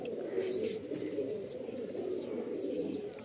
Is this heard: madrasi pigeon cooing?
yes